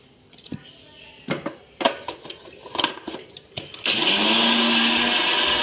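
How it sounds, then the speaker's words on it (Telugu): A few clinks and knocks, then a small mixer grinder switches on and whirs loudly and steadily, powdering sugar, until the end. "చిన్న జార్లో కొద్దిగా చక్కెర వేసుకొని మెత్తగా పొడి చేసుకుంటాను ఫ్రెండ్స్"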